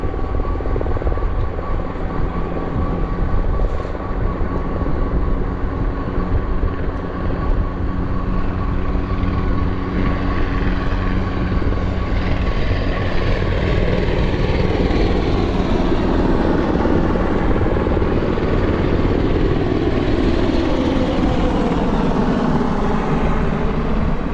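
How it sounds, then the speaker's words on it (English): Helicopters' rotors thump loudly and continuously overhead along a bike trail, a dense, churning roar that swells and shifts as they pass back and forth, with no talking. "Not sure what these helicopters are up to."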